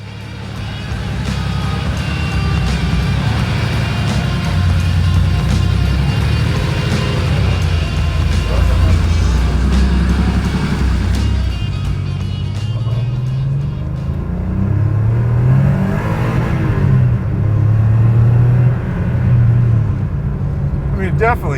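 A Porsche 911 Safari Sportsman drives along with a steady engine rumble that rises as it accelerates, while people talk inside the car throughout.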